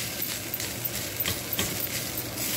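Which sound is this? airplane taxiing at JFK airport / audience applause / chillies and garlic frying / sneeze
chillies and garlic frying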